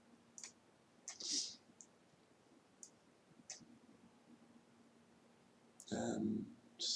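Sparse computer mouse clicks in a quiet room, a handful of sharp close taps spread out, with a louder burst of sound near the end.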